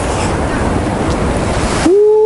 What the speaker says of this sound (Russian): Смотрите, какие волны.